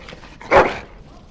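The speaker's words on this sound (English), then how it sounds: "Bloody dog." A single loud, close dog bark rings out in the fantasy role-playing game Dragon Age: Origins, set against a quiet background.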